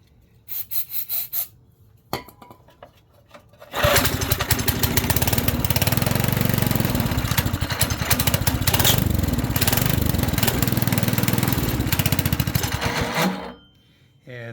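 A small engine with a muffler and a suspect diaphragm, just repaired, starts after a few short sputters and then runs loud and steady for about nine seconds before cutting off abruptly.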